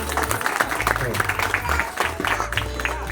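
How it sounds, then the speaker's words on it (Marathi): An audience at a family ceremony honouring grandparents claps, irregular applause mixed with crowd noise and low rumbling, with voices talking over it throughout. "मामांसाठी एक जोरदार टाळ्या"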